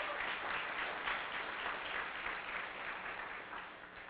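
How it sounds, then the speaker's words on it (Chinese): Audience applause at an opening dedication ceremony for a new hall, a steady, muffled wash of many hands clapping at moderate distance, slowly easing off, with no voices over it. "让我们鼓掌"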